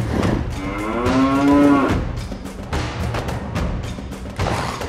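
A cow lets out one loud, drawn-out moo that rises and falls near the mic, followed by a few dull thumps and knocks.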